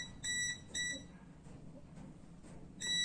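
A digital clamp multimeter's buzzer sounds beside a live electrical cable, repeating a shrill electronic beep in short bursts about every half second, a pause, then another beep, fairly loud against a quiet room.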